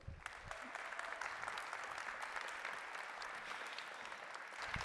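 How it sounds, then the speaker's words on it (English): Steady applause from a summit audience, dense clapping that holds at an even level throughout, slightly distant and softly recorded. "A round of applause, please."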